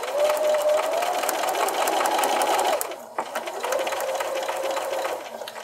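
A sewing machine stitches a wavy table runner in a close, steady whir, pausing briefly near the midpoint before resuming the continuous run.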